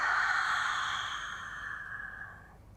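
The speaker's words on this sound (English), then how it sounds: "Last one. Inhale. And exhale." A single long, deep breath out during a beginner Pilates mat exercise, a soft airy exhale close to the mic that fades slowly over about three seconds, with no talking.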